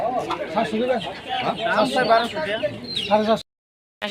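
Chickens cluck at a busy poultry market in Kapasia bazaar, their calls close and mixed with a steady stream of nearby people talking before a brief silence near the end.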